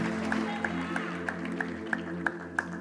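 A church congregation claps in a slow, steady rhythm, about three claps per second, fairly faint and distant beneath a sustained organ-like musical drone.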